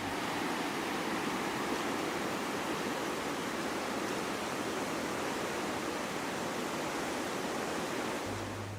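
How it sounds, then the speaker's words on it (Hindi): The Neelum River in Kashmir's Gurez Valley rushes past in a dense, continuous roar of flowing water, loud and close, steady for the whole stretch with no voices. "इस पूरे माहौल में दरिया का पानी ही नगमे सुना रहा है"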